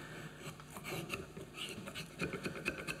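A large peeler-like hand tool shaves pine wood, giving a series of short, close scraping rasps in an uneven rhythm, each stroke fairly soft.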